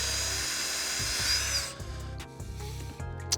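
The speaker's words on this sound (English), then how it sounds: "you're going to then drill the first hole. You're going to want to use a 1/8 inch drill bit." A power drill with a 1/8 inch bit bores a pilot hole while a triangle dock net is installed on a boat, giving a steady close whirring hum with a pulsing rhythm.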